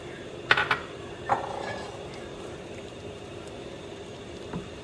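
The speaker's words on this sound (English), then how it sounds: "Stir it and cover it back." A pot of seaweed mung bean dessert is stirred and covered: a few sharp metallic clinks of a lid and utensil against the pot, then a quieter knock, over a low steady simmering hiss.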